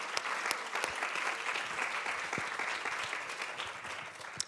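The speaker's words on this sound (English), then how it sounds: "Let's give them a round of applause." A civic event crowd gives sponsors a round of applause, an even wash of many hands clapping, soft and somewhat distant, holding steady for several seconds without talk.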